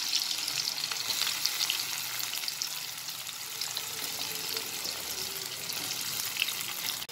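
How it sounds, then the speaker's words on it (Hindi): Pre-chopped onions fry in hot oil with cumin, giving a continuous, even sizzle with light crackles. The sound is close and steady at moderate loudness, with no speech over it. "डाल दूंगी प्याज जो मैंने पहले से काट के रखे हुए हैं।"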